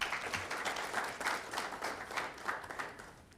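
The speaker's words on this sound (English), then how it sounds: "May we give her another round of applause?" An audience at a petroleum policy consultation meeting in Katima Mulilo breaks into applause, a steady patter of many hands clapping at moderate distance for about three seconds, with no talk over it.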